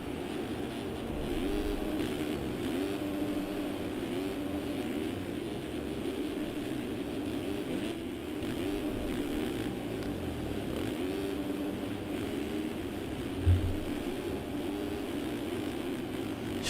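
Motocross bike engines in MX Simulator at a Foxborough supercross race, a steady buzzing drone of several bikes with rising and falling pitch as riders pass, continuous and fairly close, no talking.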